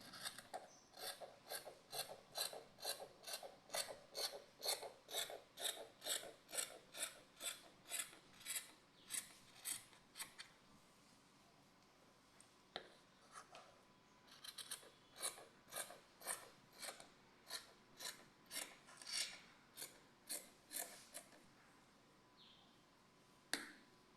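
Scissors cutting chiffon fabric, a long run of quick rhythmic snipping strokes, close and crisp, pausing briefly midway before resuming.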